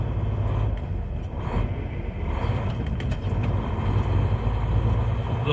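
A Volvo truck driving bobtail with no trailer hauled, its engine giving a steady, loud, low rough rumble from inside the cab, continuous throughout with faint rattles.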